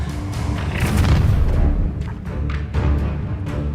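The Incendio fire spell in Hogwarts Legacy goes off as a loud, rumbling whoosh of flame mixed with booming blasts, followed by a few sharper crackling bursts toward the end.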